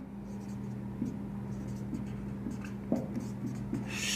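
Chalk or marker writing on a board during a chemistry lecture, with faint intermittent taps and strokes over a steady low electrical hum in a room.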